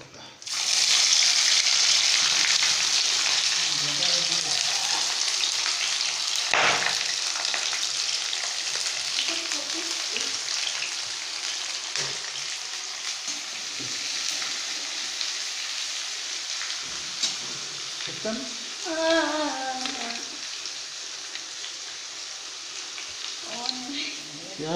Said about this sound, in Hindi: खड़े मसाले ज़्यादा डाल दिया हूँ